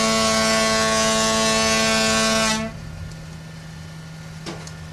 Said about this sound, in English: we're gonna try the foghorn